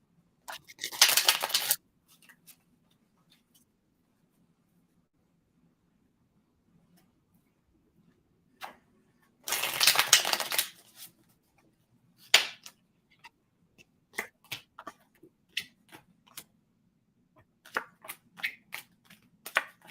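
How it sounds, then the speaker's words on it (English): A deck of cards is riffle-shuffled in two loud, buzzing bursts a few seconds apart, followed by a scatter of sharp single slaps as cards are thrown down one by one against faint background hum. "Let's throw some cards down for Ethereum Pow."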